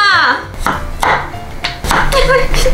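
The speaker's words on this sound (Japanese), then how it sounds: "みぞさん薄切りをしてください" A kitchen knife cutting thin rounds on a cutting board, with several crisp thuds spaced irregularly and a voice speaking over part of it.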